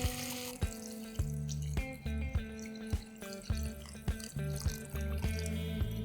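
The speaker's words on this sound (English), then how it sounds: "Also at this stage, I'm going to add more water to it." Water going into a pan of potato and masala for a spicy chicken curry, a wet splashing hiss with steady rhythmic knocks of a spoon stirring against the pan, near and without speech.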